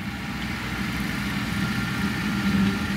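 A John Deere 4066R compact tractor sits idling, its engine giving a steady, fairly quiet low rumble throughout with no talking.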